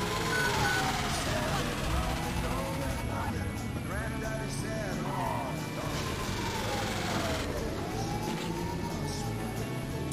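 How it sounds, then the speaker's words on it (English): A police car in Grand Theft Auto grinds and crashes amid constant loud game noise, with a wailing siren-like sweep and engine roar, as though about to explode. "That sounds like the police car's going to explode."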